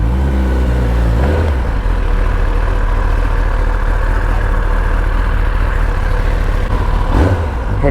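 A superbike engine idles loudly and close up, holding a steady deep rumble with slight shifts in pitch near the start and end.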